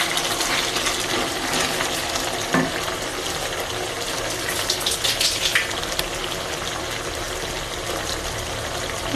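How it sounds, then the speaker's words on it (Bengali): Water from a blender jar and hot water poured into a mustard chicken curry in a pot, a steady, close rushing pour with bubbling and sizzle running continuously throughout. "আর বাদ বাকি গরম জল দিচ্ছি।"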